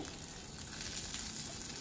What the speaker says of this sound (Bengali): আলুগুলো আমার প্রায় লাল লাল করে ভাজা হয়ে গেছে